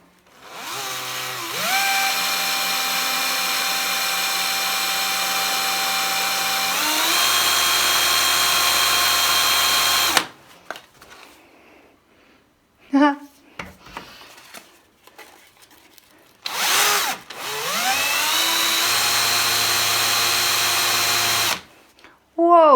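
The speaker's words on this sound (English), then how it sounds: "Take a standard drill, tighten the screw on" A standard power drill spins a screw against sandpaper, whirring loudly in two long bursts that rev up and wind down. Quieter handling noises and brief spoken moments fall in the gap between the bursts.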